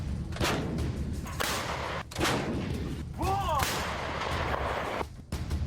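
M777 howitzer artillery firing in Ukraine's Donbas: several loud, booming blasts in quick succession, each a broadband thump with a rolling tail, and a brief whistling sweep partway through.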